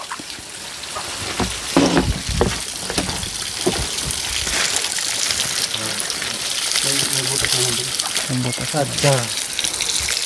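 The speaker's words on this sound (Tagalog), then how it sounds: "tubig na rumaragasak." A forest stream rushes in a steady broadband wash of water, close and continuous, while someone talks over it.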